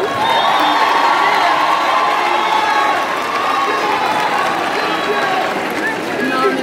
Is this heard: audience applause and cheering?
yes